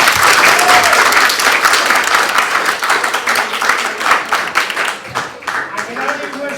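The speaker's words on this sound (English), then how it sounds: "Nice round of applause for Dr. Donkor." A round of applause for Dr. Donkor at the close of a teaching session, dense clapping from a sizeable audience that stays loud throughout and thins a little toward the end, with a voice speaking over it.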